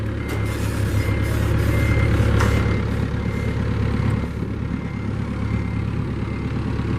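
A forklift idles steadily at close range while unloading a short ramp from a trailer and slowly lowering it to the ground. A low continuous engine rumble runs throughout, loudest at the start and easing slightly partway through.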